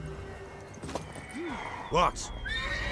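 A horse in The Witcher 3 whinnies twice, short rising-falling neighs close by, the second louder, with a few hoof clip-clops and a brief spoken word in the game around them.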